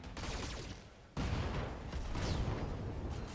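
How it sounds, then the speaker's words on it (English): Explosive gunfire and booms from the mech combat game BattleTech as an ammunition store detonates, with a sharp loud blast near the middle, dense rumbling bursts throughout and faint high metallic pings above. "Oh, ammo explosion. Target destroyed."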